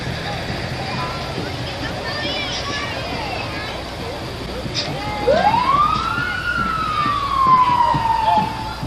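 A fire engine in the 1987 Burnsville fire parade sounds its siren, which rises sharply and then winds slowly down. It is loud and close over street noise, with someone talking throughout.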